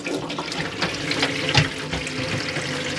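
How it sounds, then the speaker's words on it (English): Hot water runs from the tap into the sink of an Autosleeper Ascot motorhome, a steady close splashing stream with no talking. "got your tap there, that's on the hot,"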